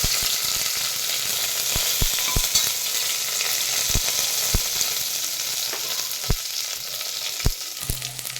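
Mustard seeds, cumin, curry leaves and mint leaves sauté in hot oil for a cauliflower gravy, giving a steady close sizzle broken by sharp, irregular knocks of the spoon against the pan.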